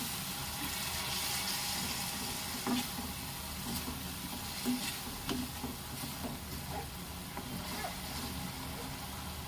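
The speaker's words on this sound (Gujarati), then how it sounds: "આપણે બધું સરસ મજાનું મિક્સ કરી લઈશું।" Garlic potato curry being stirred in a pan with a little added water: a steady low sizzle with soft scraping and occasional clinks of the spoon, fairly close and without talk.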